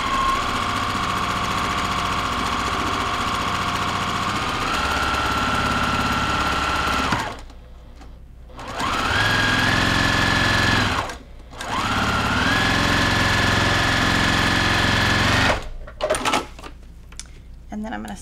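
A sewing machine fitted with a quarter inch foot stitches a quilt block in long steady runs, a close mechanical whir that stops and restarts three times with short pauses between.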